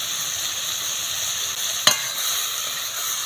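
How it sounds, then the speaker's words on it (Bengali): Ridge gourd with salt and turmeric frying over a low flame, a loud steady sizzle from close up with one sharp utensil knock against the pan partway through, no voices. "এইভাবে অল্প জাল দিয়ে ঝিঙেটা নাড়তে নাড়তে করে নেবে"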